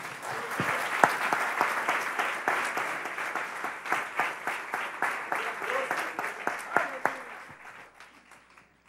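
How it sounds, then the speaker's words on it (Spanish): A church congregation on its feet gives a long, strong round of applause to Jesus Christ, steady dense clapping with sharper accented claps, fading out near the end, with voices underneath. "vamos a darle un fuerte, fuerte aplauso al Señor Jesucristo"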